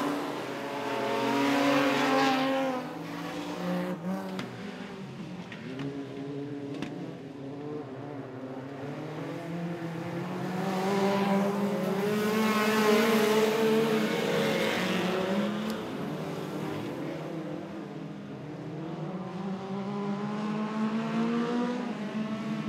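Super Sedan race cars thunder around the dirt oval at Gympie Speedway in Queensland, their engines rising and falling as they pass by, growing louder and fading again, and blending into a continuous roar at moderate distance.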